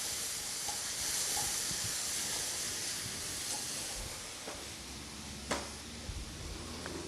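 Kimchi fried rice with meat stir-frying in a pan gives a steady, fairly soft hiss of sizzling, with a sharper spatula knock near the end and occasional light clatters; no voice.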